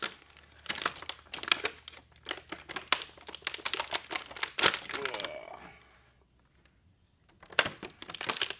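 Action figure plastic packaging gets ripped and crinkled open, loud crackling tears and crumpling bursts for about five seconds, a quiet pause, then more crinkles, with some speech mixed in.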